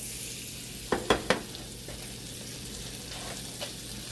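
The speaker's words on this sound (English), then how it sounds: "Melting the butter." Irish butter melting in a pan just pulled off the heat, a steady low sizzle and hiss throughout, broken by a few sharp clicks of a utensil against the pan near the start, no voices.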